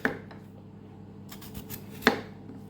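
A knife cutting through raw potatoes for hasselback potatoes, two sharp chopping clicks against a board, one at the start and one near the end, with a few softer taps between in a quiet kitchen.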